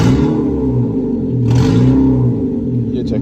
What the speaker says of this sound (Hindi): ये चेक कर लें, ये गाड़ी की आवाज़ है फटी